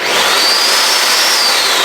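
Ninja Foodi Power Pitcher blender running at full speed, a loud, steady, harsh roar with a high whine that holds level throughout.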